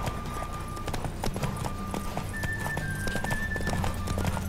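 Horse hooves clip-clopping at a gallop during a horse race in the Witcher 3 video game, a steady rapid rhythm with occasional whinnies, plus a sustained tonal music-like note over low rumble throughout.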